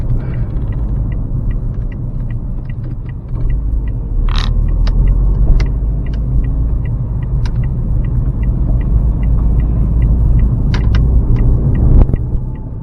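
Car climbing a hill, a loud steady low engine and road rumble from inside the cabin, with small clicks and ticks scattered over the continuous drone.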